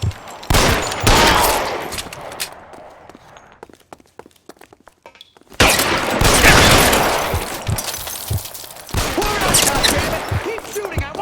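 Gunfire in the video game L.A. Noire: loud bursts of shots and rapid volleys, a quieter lull of scattered pops in the middle, then heavy firing resumes, with shouted voices and footsteps mixed in.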